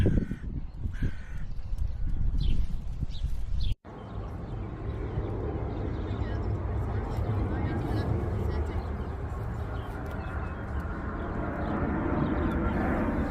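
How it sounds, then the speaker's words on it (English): Crows caw repeatedly at first in Begin Park, Israel, then a broad outdoor hum follows with a low rumble and faint bird calls in the background. "The only thing you're going to hear is the sound of the birds."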